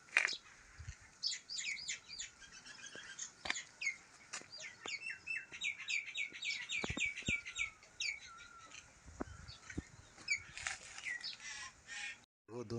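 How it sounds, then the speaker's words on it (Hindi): House sparrows chirp busily in a home garden, with rapid, overlapping calls and brief clicks and knocks throughout, the chatter rising and falling with short gaps. "वो दोनों गौरैया"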